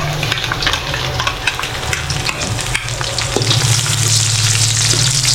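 Garlic sizzles steadily in hot oil in a pan, a dense, continuous crackle with occasional stirring scrapes, close and fairly loud, with no one talking.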